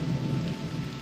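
Steady heavy rain with a low rumble of thunder in a film scene from Back to the Future Part II, a dense continuous wash of downpour with no voices over it.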